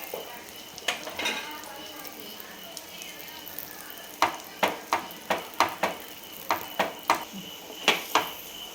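Chicken masala and pav roast in a pan with a soft, steady sizzle, joined in the second half by a rhythmic run of sharp spatula taps against the pan.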